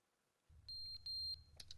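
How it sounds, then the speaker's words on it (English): An alarm goes off in the video game The Stanley Parable: a faint, steady high electronic tone that sounds in a few short bursts over a low rumble, with a few brief beeps near the end. "Oh, the alarm is going off."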